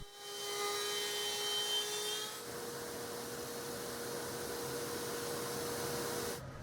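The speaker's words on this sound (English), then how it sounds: "Using the router table, I'm routing 1/4 inch slots down the entire length of all of the" A router table cuts 1/4 inch slots along wooden pieces, a high whining motor with a sharp tonal edge that drops into a steady rushing buzz as the bit works through the wood.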